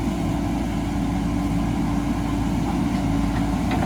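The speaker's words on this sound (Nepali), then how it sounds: "आज बारी कम खनेछ डोजरले" A bulldozer works on farmland, its heavy diesel engine droning in a steady, loud, low rumble throughout, with no breaks or voices.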